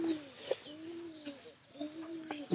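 Village-kept desi pigeons, troubled by eye ailments, give a run of three low, throaty coos close by, each a steady drawn-out call, ending in a sudden loud knock.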